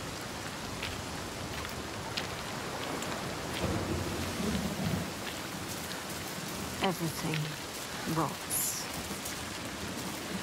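Heavy rain pours steadily in a Senua's Saga: Hellblade II scene, with low thunder-like rumbles and a speaking voice over the downpour.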